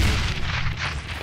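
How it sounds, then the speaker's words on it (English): A grenade detonates in Counter-Strike as a short, heavy boom with a dull low-end thud that decays quickly. "I'm throwing a grenade."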